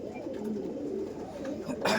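Chotial pigeons, fancy Bengali breed birds currently in molt, coo softly and steadily close by for a couple of seconds.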